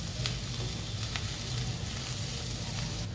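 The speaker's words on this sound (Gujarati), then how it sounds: "1 મિનિટ માટે આપણે એને સાતળી લઈશું." Chopped onions with white sesame seeds sautéing in a pan for a green tuvar thotha curry, giving a steady, close, even sizzle with faint stirring throughout and no talking.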